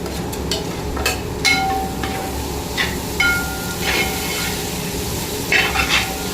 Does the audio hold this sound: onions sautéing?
yes